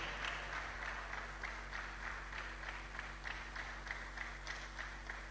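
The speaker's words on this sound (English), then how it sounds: "You made it a rousing applause." An audience at a university career services event applauds the Deputy Vice Chancellor, giving faint, steady clapping from a crowd heard at a distance.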